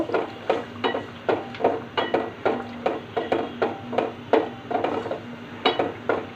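Spice masala of coriander powder being fried and stirred in a pan with a utensil for a magur fish curry, giving a steady run of sharp scraping knocks roughly every third of a second, close and alone.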